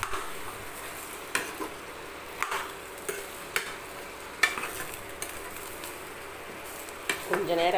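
Mushroom and potato sautéing in a pan for a Tamil tamarind curry, a soft steady sizzle with occasional stirring clicks and scrapes, close and moderately quiet throughout.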